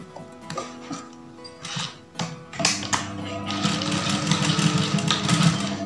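A sewing machine stitching batik blouse fabric starts with a few taps and short bursts, then settles into a steady, close, rapid mechanical whirring run.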